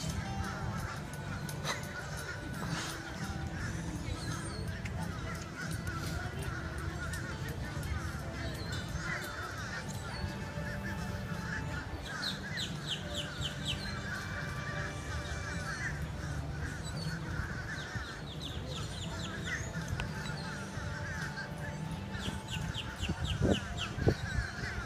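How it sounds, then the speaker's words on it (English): Outdoor ambience at Epcot with a bench view, calls of crows and other birds breaking through a steady crowd murmur and distant chatter, repeated bird notes scattered throughout the scene. "Wow, all these birds chirping on the background."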